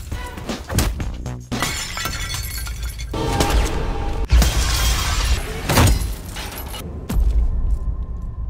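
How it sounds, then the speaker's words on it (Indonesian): A glass door shatters after a gunshot in a Korean drama, giving a loud, close series of crashing, breaking bursts with brief quieter gaps between the impacts. "berhasil mengenai pintu kaca di belakangnya yang langsung hancur menimpa tubuh mereka"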